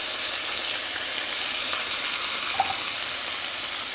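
Corned beef fries in a pan for a home breakfast, a steady, close sizzle with soft crackles and one brief pop, no talking.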